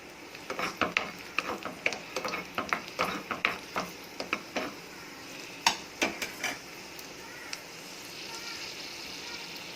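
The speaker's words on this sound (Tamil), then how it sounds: "நம்ம திராட்சை எடுத்து வச்சுருக்கோம், காஞ்ச திராட்சை. இப்போ இதோட இது சேர்த்துட்டு லைட்டாக ஃப்ரை பண்ணிக்கணும்." Dried raisins frying in hot ghee in a small ladle, a close, quiet sizzle broken by a series of sharp ticks and crackles in bursts, busier early on and thinning out toward the end.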